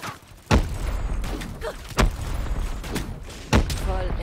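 Several sharp gunshots ring out at irregular intervals in Call of Duty: Black Ops 3, with thuds and game sound effects in between; synthetic and punchy.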